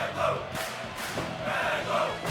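A crowd cheers and yells in loud, continuous swells at a house wrestling match, with the roar rising and falling over a couple of seconds.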